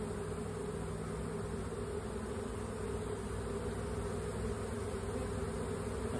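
A honeybee swarm hums in a dense, continuous buzz, steady and enveloping, heard outdoors at moderate distance with no voices.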